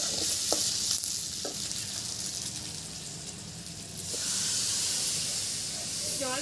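Fish frying in oil in a pan while being stirred, a steady close sizzle and hiss with occasional scraping clinks, growing slightly louder toward the end.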